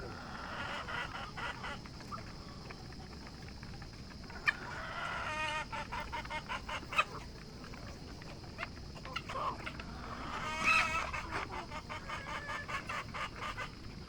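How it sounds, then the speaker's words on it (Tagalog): Gamefowl hens and roosters in a farm scratch pen clucking and calling on and off, with scattered sharp squawks over a quiet outdoor background. "Yung mga itinangkal namang nakatali sa cording area ay nasa kubo, dun pinatuka ni Richard, inilagay lang sa scratch pen."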